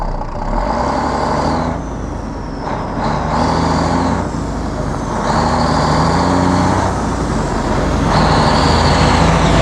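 A pickup truck drives along a farm road during soybean harvest, its engine rumbling steadily and close, with road and tire noise that swells and eases over the whole stretch; no one speaks.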